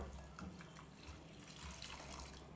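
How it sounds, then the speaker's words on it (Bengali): Water is poured into a cooking curry masala for pabda fish, a soft, steady splashing and trickle heard close and fairly quiet for a couple of seconds. "আমি এখানে 1 কাপের মতো জল দিয়েছি।"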